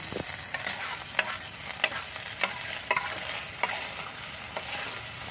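Corned beef fries in a pan as its fat renders out, giving a continuous close sizzle broken by repeated sharp scrapes and taps of a spatula stirring the meat, with no talking.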